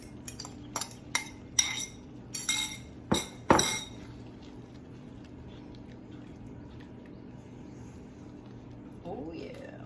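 A utensil clinks and scrapes against a bowl while chorizo and egg are mixed together, a run of sharp close taps for the first few seconds, then quieter scraping, with low room hum throughout.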